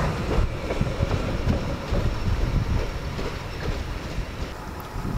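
A train carriage on the Circumetnea line in Sicily rumbles steadily in a station with a continuous broadband roar and faint clatter, with no voices over it.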